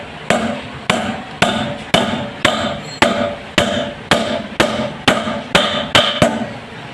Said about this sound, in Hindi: एक बुश रखेंगे और हथौड़ी की मदद से